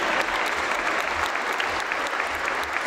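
Steady, full applause from an audience at a performance in a club hall, dense clapping continuing without a break throughout, fairly close and loud.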